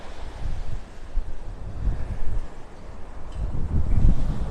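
Strong wind blows across a beach in North Naples, Florida, a loud, steady low roar buffeting the microphone and swelling in gusts, with surf faintly underneath.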